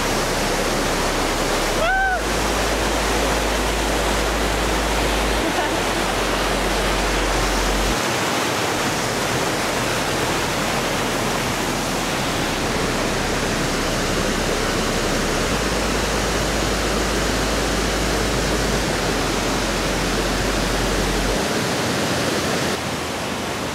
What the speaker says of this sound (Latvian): Es šo konkrēti ūdenskritumu nosauku par slīdošo, jo ļoti slīdeni akmeņi ir.